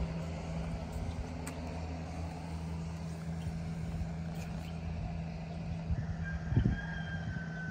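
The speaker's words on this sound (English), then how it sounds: "Oh, listen to the rooster." A rooster crows somewhere in the distance over a steady low hum of outdoor background noise at a historic site with a log cabin, with no one talking.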